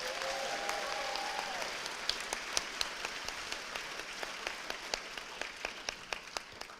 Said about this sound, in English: can we give a round of applause to our new Golden Bears?